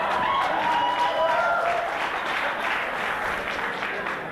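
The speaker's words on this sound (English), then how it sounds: "For those of you who don't know what the big cheer is about" A large audience cheers and applauds in a steady, dense wash of clapping and shouting that holds for several seconds, with a few whoops rising above it and the noise easing slightly toward the end.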